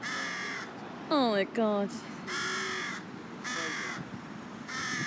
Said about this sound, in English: That crow's so aggressive.